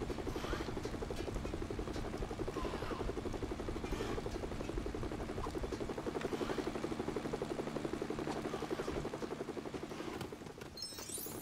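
A helicopter in the video game LEGO Batman 2 gives a steady, continuous rotor thrum throughout, loud and close, with no talk over it.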